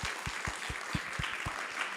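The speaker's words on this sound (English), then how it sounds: "Let's give them a round of applause." Audience applause at a talk on the road to net zero, a steady wash of clapping with regular low thumps throughout, moderately distant and fairly quiet.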